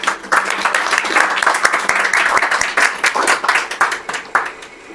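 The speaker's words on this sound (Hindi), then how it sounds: "यीशु मसीह के लिए जोरदार ताली बजाएंगे।" A church congregation claps loudly for Jesus Christ, with sustained, energetic applause from many hands, close and full, in uneven bursts that stay strong throughout.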